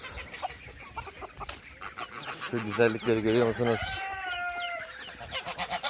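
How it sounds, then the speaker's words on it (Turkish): A rooster crows once nearby amid hens clucking on a village farm, with a person speaking over the birds before and after. "Atarlı horoz."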